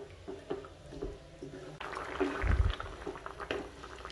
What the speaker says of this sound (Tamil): ஒரு கொதி வந்தாக்கிலேயே நம்ம அணைச்சிடலாம்.